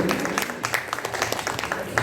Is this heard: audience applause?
yes